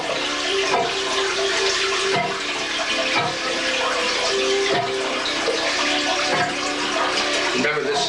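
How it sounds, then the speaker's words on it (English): Recycled bathwater gurgles and splashes into a toilet tank, a loud continuous turbulent rush with brief surges, heard close up. "you'll be able to understand then how the water gurgles into the toilet tank."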